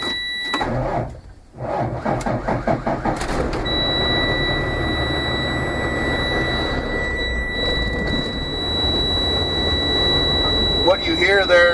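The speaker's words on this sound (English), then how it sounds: "What you hear there is the low pressure audible alarm" A steady high-pitched truck low air pressure warning alarm sounds continuously over a loud rumbling diesel engine idle, after the truck's engine starts up.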